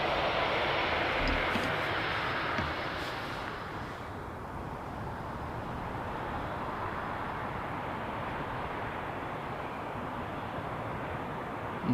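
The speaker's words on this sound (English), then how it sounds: "That's the little 737-700 coming in from Paris Charles de Gaulle." A Boeing 737-700 arriving from Paris at Amsterdam Schiphol rumbles loudly overhead, a broad engine roar that eases after a few seconds into a softer sustained wash of noise.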